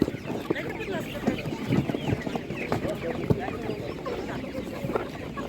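Broiler chickens cluck and fuss at an animal market, scattered short calls from several birds at close range amid the busy chatter of people talking nearby.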